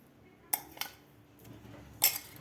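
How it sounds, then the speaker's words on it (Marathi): Spice masala being mixed into corn poha chivda, with a few sharp metal clinks of a spoon against a pan or bowl spaced over a couple of seconds in a quiet room. "आता मसाला आपला व्यवस्थित आपल्याला ह्या पोह्याला लावून घ्यायचा आहे"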